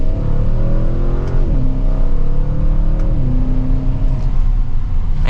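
A 2024 Audi RS7 accelerating hard from second gear, loud close engine revving that climbs in pitch, drops at two quick upshifts, then climbs again, heard from inside the car.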